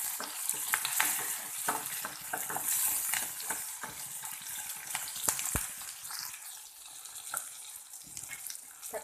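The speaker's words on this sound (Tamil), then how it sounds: "இப்போ தக்காளி போட்டுக்கிறேன்" Tomatoes go into hot oil with curry leaves and coriander leaves, giving a close, busy sizzle broken by scattered spatters and clicks of stirring, at moderate volume with no talking.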